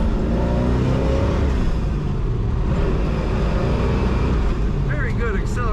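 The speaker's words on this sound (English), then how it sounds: "Very good acceleration in this engine." A green 1969 Chevrolet Camaro Z28 with a four-speed manual pulls hard under acceleration, its engine roaring close and loud with a deep rumble throughout, and a brief high whine near the end.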